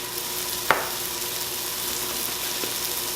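Dryad's saddle mushrooms frying over high heat in a hot pan, a steady close hiss of sizzling with one sharp clink early on and a faint tap later, no talk.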